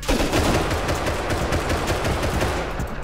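Dense, loud gunfire from the survival video game Rust, with rapid overlapping shots and bursts filling the whole moment with no talk over it.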